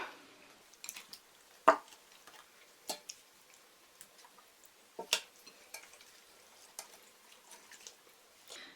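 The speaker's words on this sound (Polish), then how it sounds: "Mięso wkładam do garnka." Soft wet clinks and taps against a pot as pieces of meat for a broth are placed inside, scattered irregularly over a quiet background.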